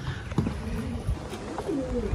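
A pigeon sits resting on a perch and gives soft, low coos, a few gentle warbling calls close by against quiet outdoor background noise.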